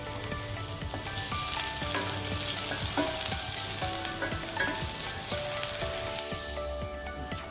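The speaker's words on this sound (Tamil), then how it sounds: "எண்ணெய் சூடான பிறகு நம்ம வெங்காயம் கொட்டிக்கலாம்." Onions fry in hot oil for veg bonda, a loud, steady close sizzle with occasional clinks and scrapes from stirring.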